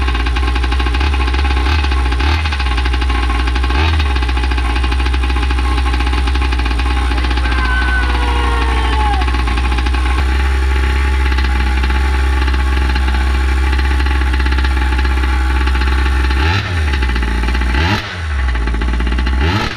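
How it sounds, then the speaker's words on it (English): Primal RC Raminator nitro monster truck engine running steadily during break-in, a loud continuous buzzing drone with a few brief throttle blips near the end, no talking. "you can already hear this engine starting to sound a little different and be a little more responsive already after that first heat cycle"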